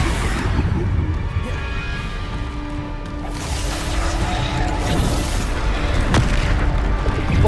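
Bombarda spell explosions go off in the PC game Hogwarts Legacy, heavy booming blasts layered over constant battle rumble, with a sharp crack near the end, loud and near.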